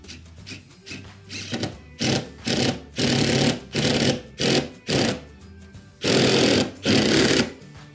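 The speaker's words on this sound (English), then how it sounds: "now I just screw them to the wall." A power drill driving screws through wooden mounting blocks into a wall for floating shelves, in a series of short whirring bursts separated by brief pauses, fairly close and loud.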